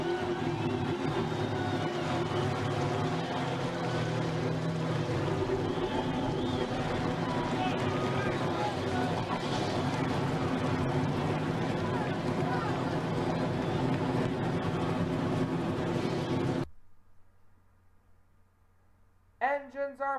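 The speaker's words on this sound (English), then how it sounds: "Engines are fired here in Daytona." Stock cars in a Daytona 500 racing video game idle and rumble together in a dense, steady engine drone that cuts off abruptly near the end, followed by a brief faint sound.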